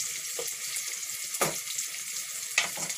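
Whole cardamom and cinnamon frying in oil for chicken kofta curry, a soft steady sizzle punctuated by two or three sharper crackling pops, close and fairly quiet with no talking.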